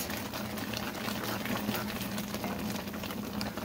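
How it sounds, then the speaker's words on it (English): Calamondin orange marmalade bubbling steadily in a pot on the stove, a close, continuous dense simmer with small pops throughout and no talk. "once it started boiling"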